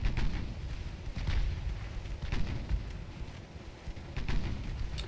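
Destroyer guns fire in the Ultimate Admiral Dreadnoughts naval video game, sounding as repeated deep booms and rumbles over a constant low battle drone, moderately loud, with a few sharper bursts scattered across the clip.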